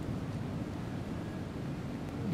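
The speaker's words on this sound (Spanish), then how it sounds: "se está oyendo ya el sonido del mar" Sea waves wash against the coast in a steady, broad rush of surf with wind noise, continuous and fairly loud with no voices.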